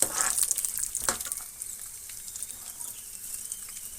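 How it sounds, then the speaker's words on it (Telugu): Peanuts sizzle and crackle as they fry in a pan over the flame for a hotel-style chutney. The sizzle is soft and even, with a clearer patch of stirring and scraping near the start before it settles into a quieter hiss. "ఇవి కూడా వేయించుకోవాలి వీటితో కలిపి"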